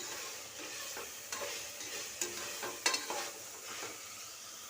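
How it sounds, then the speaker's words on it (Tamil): Tomatoes and green chillies sautéing for mutton biryani, a soft steady sizzle with a few quiet stirring scrapes and taps, faint and close, with nobody speaking. "தக்காளியும் பச்சை மிளகாயும் நல்லா வதங்கட்டும்."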